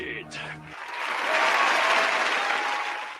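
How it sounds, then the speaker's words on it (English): Applause rises after a brief stretch of voices at the start, swelling into a steady broadband wash of clapping that holds and slowly tapers. "Applause."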